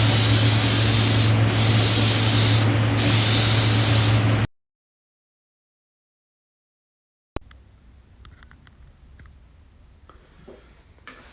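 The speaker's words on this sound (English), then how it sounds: "So we're going to put a primer on it now." A spray gun lays primer onto a Moto Guzzi Mk1 motorcycle frame in a loud, steady hiss with two brief pulses. It cuts off to silence, then faint workshop ticks and rustles follow.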